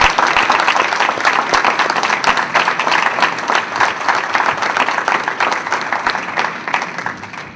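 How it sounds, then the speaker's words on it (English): A school board meeting audience gives the kids another round of applause after their performance. Dense, sustained clapping from many hands holds steady throughout and fades slightly at the close. "Let's give the kids one more round of applause."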